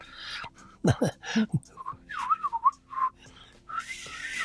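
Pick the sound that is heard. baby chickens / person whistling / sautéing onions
person whistling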